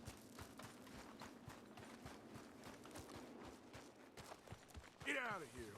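Horse hooves clip-clop in a steady, moderately quiet rhythm in Red Dead Redemption 2, with talk over them and a brief louder burst near the end.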